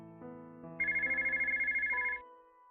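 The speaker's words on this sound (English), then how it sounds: "then suddenly I hear the phone ringing" A phone rings in the video game Connected Hearts, a fast warbling electronic trill lasting over a second, heard over soft sustained background music.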